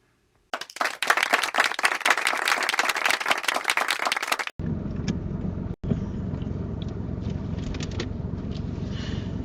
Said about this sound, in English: I think this is worth a round of applause